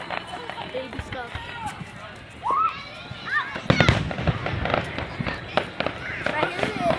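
Fourth of July fireworks in a park crackle and pop in quick irregular bursts, getting louder and denser after the start, heard from nearby with people talking and exclaiming throughout.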